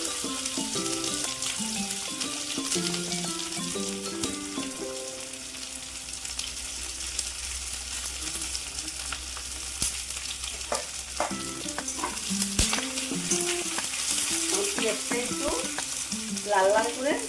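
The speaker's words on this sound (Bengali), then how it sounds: "লাল লাল করে ভেজে নিব।" Chopped onions fry with bay leaves and fish head curry spices in a pan, a steady sizzle with stirring scrapes running throughout, fairly close and continuous with music playing over it.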